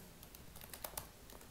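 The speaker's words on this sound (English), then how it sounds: "I'm going to type in my email" Quiet typing on a computer keyboard as an email address is entered, a short burst of light clicks and taps at close range over faint room noise, with no voices.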